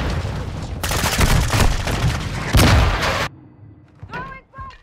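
Loud, close automatic gunfire in Call of Duty Modern Warfare II, a sustained rattling burst with a heavier thump near the end, then cutting off to quieter game sounds and voices.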